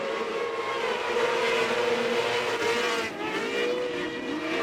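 POWRi micro sprint cars race on a dirt track, several high-revving engines howling together at a moderate distance, pitches rising and sliding as they go around the track, continuous with no speech.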